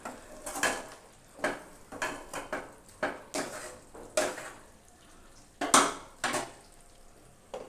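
Pot of potatoes and taro stolons being stirred and covered with a lid, a series of short metallic clanks and scrapes spaced irregularly over a quiet background.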